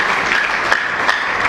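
A church congregation applauds loudly and continuously at a French-language service, a dense burst of clapping lasting a moment, close and full.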